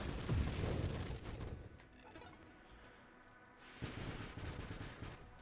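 Strafing strikes in the Nova Drift space shooter fire as dense, rumbling bursts of rapid blasts, loud at the start, easing off in the middle and swelling again near the end.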